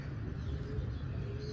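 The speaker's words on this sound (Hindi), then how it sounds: "माशाल्लाह कबूतर उड़ रहे हैं अपने ऊपर" Flying pigeons overhead coo softly and faintly in a low, continuous murmur over quiet outdoor background noise, with no speech.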